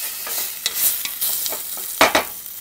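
Onions saute in a pan for a chicken parmesan sauce, a light close sizzle with quick stirring clicks and a couple of louder scrapes near the end.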